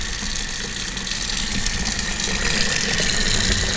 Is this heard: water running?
yes